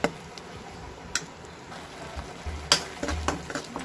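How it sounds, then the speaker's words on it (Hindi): Chopped tomatoes frying slowly over low heat in a pan for a Kerala-style fish curry, with a soft steady sizzle and a few sharp clicks and scrapes of stirring. "टमाटर को अच्छे से भून लेंगे और अच्छे से गला लेंगे, धीमी आंच पर 2 मिनट के लिए टमाटर को अच्छे से भून लेंगे।"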